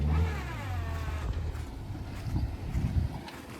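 A car stuck in mud revs its engine hard, a loud close roar that rises and wavers with wind buffeting the microphone and muddy churning underneath.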